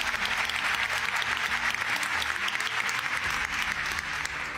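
Studio audience at a Persian TV show applauding steadily for the full length, a dense, loud, continuous wash of clapping with no talk over it.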